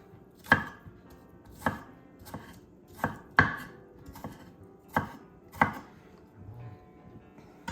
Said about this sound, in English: So now that they're somewhat smashed up, we'll just cut them into pieces